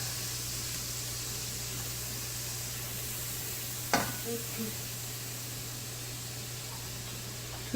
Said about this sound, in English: I'm going to add my minced garlic and my onion. And let's get those sauteing